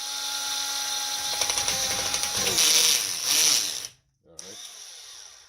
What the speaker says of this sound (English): My drill needs a little bit more power, I think.